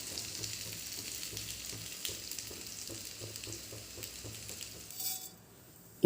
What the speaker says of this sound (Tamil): அதில் தாளிக்கிறதுக்கு கடுகு போட்டிருக்கேன்.